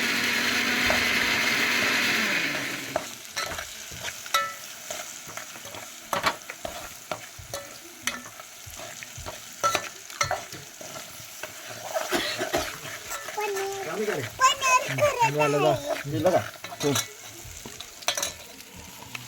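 Paneer masala frying in a pan in a village kitchen in Kolhapur, with a loud initial sizzle that fades into scattered scraping and stirring clatter, plus coughing and a few voices nearby.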